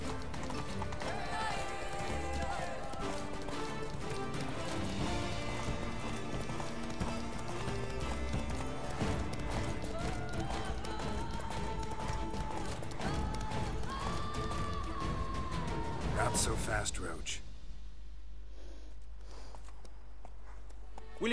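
Horse hooves clip-clopping at a gallop in The Witcher 3, a fast steady rhythm of hoofbeats with a whinny mixed in, over game music, stopping abruptly near the end.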